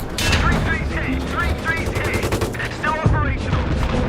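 Rapid bursts of M240 coaxial machine gun fire in the video game Battlefield 3, loud and close, rattling in quick repeated volleys with sharp cracks over a rumbling battlefield background.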